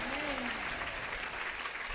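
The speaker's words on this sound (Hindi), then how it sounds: "इस जीत को सेलिब्रेट करें तालियों से" A worship congregation applauds to celebrate during a Christian prayer service: steady, dense clapping from many hands, fairly soft and distant, with a voice faintly rising over it at the start.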